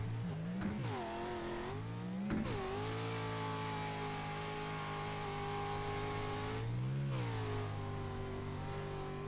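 Race car engine from the AMX CG Motorsports Pro Lite Series, heard from an onboard motion-rig view, droning loudly and steadily with repeated rising and falling revs through shifts and corners.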